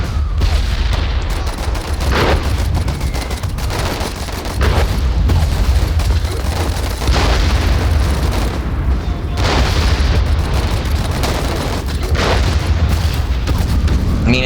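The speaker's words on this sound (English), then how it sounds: "Artillery." Artillery barrages in a World War I style strategy war game, a dense, continuous rumble of booming blasts with sharper explosive bursts recurring every couple of seconds, loud and sustained throughout.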